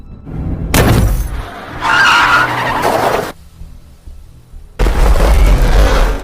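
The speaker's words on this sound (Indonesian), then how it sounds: "mobil yang digunakan oleh Camelia harus mengalami insiden cukup parah setelah menabrak Otrapitel yang tiba-tiba melintas ke tengah jalan" A car in a film chase skids and crashes after striking a motorcyclist who crosses the road: loud bursts of screeching and impact noise, a short quieter lull, then another heavy crash.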